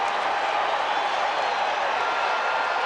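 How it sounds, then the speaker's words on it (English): Steady, dense roar of a packed baseball crowd at Shea Stadium during Game 6 of the 1986 World Series, Red Sox at Mets, a continuous wash of cheering and voices with no single clap standing out. "this crowd came here to make some noise tonight"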